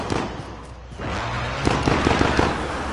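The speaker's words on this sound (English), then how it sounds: "oh, I hear gunshots Straight ahead." Sharp gunfire cracks in the video game Warzone, several irregular shots at moderate distance over a low rumbling background.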